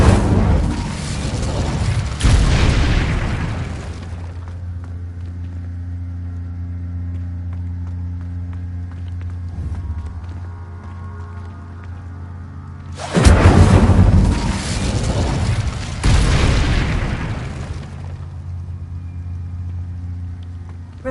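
Two loud fire-spell blasts roar out in a fantasy wizarding game, each a broad whooshing burst lasting a few seconds, separated by a long low steady drone of game ambience.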